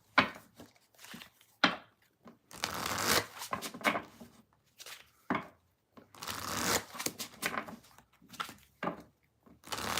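Tarot cards being shuffled by hand, recurring bursts of riffling and sliding card noise separated by short pauses, close and fairly quiet, with no talking.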